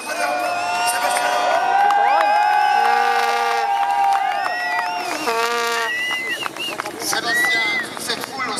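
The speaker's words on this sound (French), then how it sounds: "toute cette foule au centre de Strasbourg, malgré la pluie, une image un peu magique" A large crowd cheers at a Sébastien Loeb rally podium in central Strasbourg in the rain, with continuous roaring, shouts and whoops from many voices, loud and sustained, with some talking mixed in.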